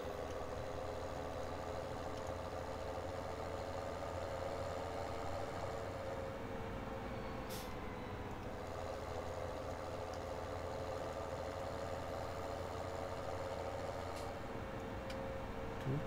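A tractor pulling a full trailer in the Farming Simulator 17 video game, a steady low engine drone that holds evenly throughout at moderate level, with a couple of faint clicks.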